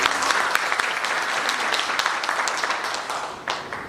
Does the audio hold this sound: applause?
yes